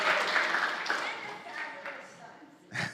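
A live audience at a wellness talk claps in a brief, moderately loud round of applause that fades out.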